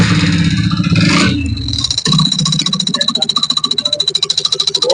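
A Hero HF motorcycle engine runs with an abnormal noise after a full engine rebuild, starting with a loud revving burst and then settling into a rapid, even ticking idle close by.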